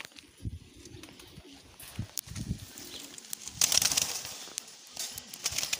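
A bird at a breeder's loft gives soft, low cooing calls in short intermittent bursts, mixed with scuffling and brief rustles nearby.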